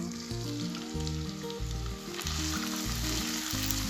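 A cup of finely chopped onions sizzles steadily in a cup of cooking oil in a kadai for an aloo gosht curry, a dense close frying hiss throughout with no talking.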